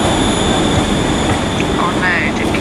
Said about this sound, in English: It's a Siemens train.